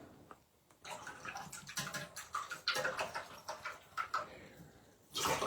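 A watercolor paintbrush is swished and rinsed in a water container, giving a run of close, irregular splashy sloshes and taps, with a louder splash at the end.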